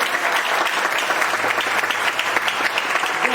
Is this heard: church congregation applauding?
yes